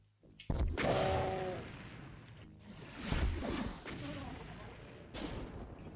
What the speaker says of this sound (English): maybe a couple of rockets through here